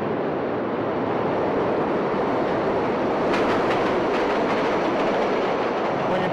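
A train rolls steadily through a rail yard with a continuous loud rumble and a faint clickety-clack. A brief high squeal rises midway, and no one speaks.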